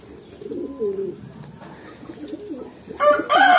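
Pigeons kept in a loft coo in low, rolling phrases throughout, with a brighter burst of wingbeat or call near the end; no one speaks.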